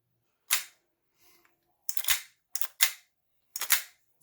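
Sig Sauer M17 CO2 pellet pistol firing with slide blowback, five sharp snappy cracks spaced irregularly under a second apart, close and dry, with a faint mechanical click between shots and no speech.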